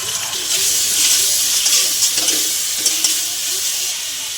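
Onions with ginger-garlic paste just added, frying in oil for a Bengali fish-head cabbage dish: a steady, bright hiss of sizzling that runs throughout at close range, with faint clinks and stirring underneath.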